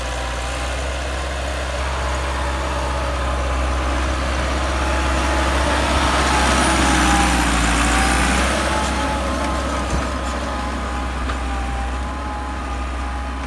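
A Massey Ferguson 385 tractor engine idles and rumbles steadily at close range, a deep continuous drone that swells slightly in the middle with no talking.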